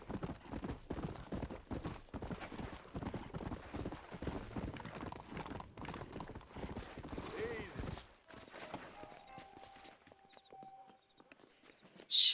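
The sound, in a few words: horse hooves clip-clopping, from Red Dead Redemption video game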